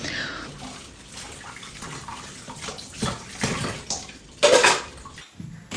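Hot water runs and splashes over dishes being washed in a home kitchen sink, with uneven gushes and clattering surges, and the loudest burst comes near the end.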